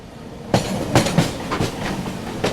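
Harbour line local train near Panvel station, heard from an adjacent moving train as loud rhythmic clattering wheel beats over steady rail rumble.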